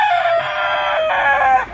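Chickens working a backyard compost pile crow and cluck loudly and continuously, a bright sustained rooster call dominating close to the listener with hen clucks mixed in.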